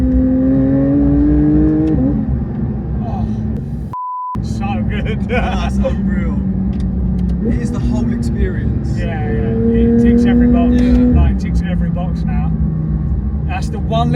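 A Porsche 992 GT3 with a Milltek exhaust accelerates through several gear changes, its loud engine note rising and dropping at each shift, with a short cut-out and a beep-like tone partway through and talk over the engine.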